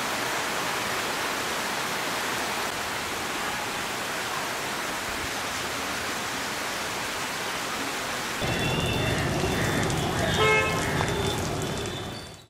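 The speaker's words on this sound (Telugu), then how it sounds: "పశ్చిమ గోదావరి జిల్లా ఏలూరులో ఏకధాటిగా భారీ వర్షం పడింది." Heavy, unbroken rain pours down on the city of Eluru in West Godavari district of Andhra Pradesh, a dense steady hiss that swells louder toward the end, where faint horn-like tones sound in the distance.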